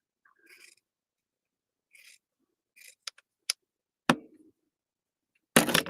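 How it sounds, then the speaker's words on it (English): Handheld scissors cutting craft fabric, a few quiet snips and crisp clicks spaced apart, close and otherwise silent, ending in a brief louder rip or rustle. "Take your handy dandy scissors."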